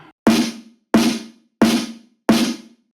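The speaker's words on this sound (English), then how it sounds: "So here is the smack layer." Four punchy snare hits from a drum and bass snare smack layer, evenly spaced and isolated, each a sharp smack with a short body and quick decay.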